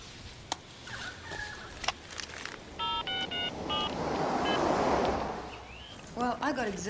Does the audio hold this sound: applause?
no